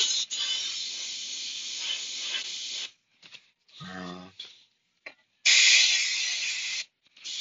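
An airbrush air compressor running near a painting setup, producing loud steady hissing in bursts with brief gaps and a short low rattle in the middle.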